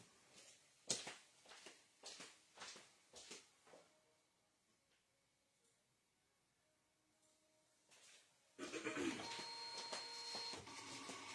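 A wireless vinyl cutting machine works on metallic puff heat transfer vinyl; a few clicks and taps come first, then after a quiet stretch the machine starts up with a steady, close mechanical whirring drone.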